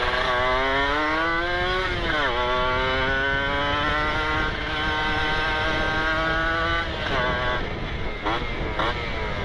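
Motorcycles pass on a road in Lembang, their engine pitch climbing and shifting as they go by, loud and close with several rising and falling passes.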